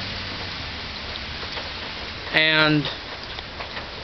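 Steady rain falls outside as an even, close wash of patter over the whole stretch, with a brief voice cutting in partway through.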